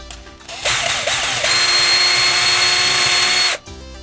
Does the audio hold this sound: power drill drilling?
yes